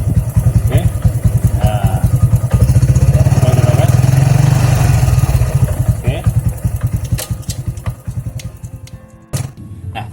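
A motorcycle engine runs loud and close as it shifts up through second, third and fourth gear, its steady drone swelling and then easing off with brief changes in pitch.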